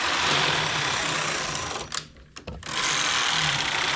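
A knitting machine carriage drawn slowly across the bed while knitting English rib, a steady close whirring rasp that briefly pauses midway, then resumes.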